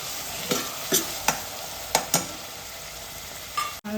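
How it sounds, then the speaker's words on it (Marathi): Onions sizzle in hot tempering oil with whole spices, ginger and garlic while cooking chole masala, a steady frying hiss broken by several sharp scrapes of a stirring utensil against the pan. "कांदा आहे तो कुरकुरीत होईपर्यंत परतून घ्यायचा आहे फोडणीमध्ये"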